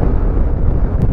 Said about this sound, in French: Oh, il y a du vent là,